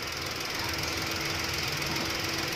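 A Volkswagen Polo engine with a low oil pressure warning runs steadily up close, a continuous rough hum and faint whine with only slight rises as it is revved lightly.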